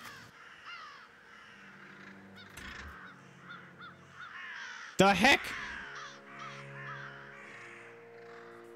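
Crow cawing in the Doggone demo game, a loud burst of harsh caws midway through over ambient game sound, with a person speaking briefly.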